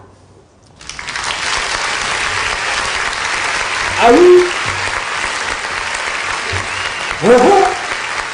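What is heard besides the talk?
applause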